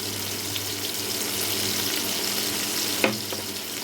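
Tomato sizzles in a pan with a pinch of salt, a close, continuous crackling fry with a brief clatter near the end and no talking.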